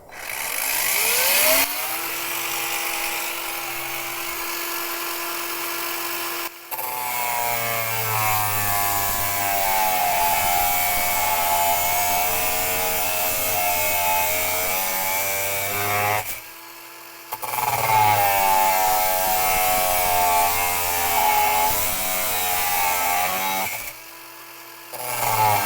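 A HYCHIKA 18V cordless angle grinder cuts through 1.5 mm steel box section, a loud continuous high whine with dips as the disc bites and pauses, broken by short spin-up gaps.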